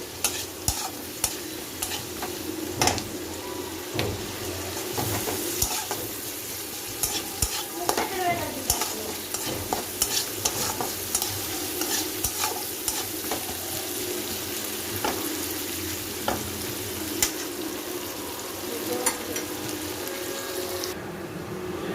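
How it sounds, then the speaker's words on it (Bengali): Onions frying in a pan until reddish brown give a steady close sizzle with frequent scraping stirs and a brief watery rush, with no voices. "এই যে আমার এই পেঁয়াজটা দেখুন দেখুন কি সুন্দর লাল লাল ফ্রাই হয়ে গেছে"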